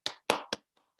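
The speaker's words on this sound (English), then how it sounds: "So let's put a virtual round of applause together for these folks who've reached 25 years." Three sharp hand claps ring out close by, followed by a couple of faint taps, a brief, sparse round of clapping during an online school board meeting.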